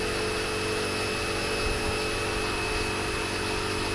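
A loud air compressor drones steadily and continuously nearby, an unbroken mechanical whir with no voices.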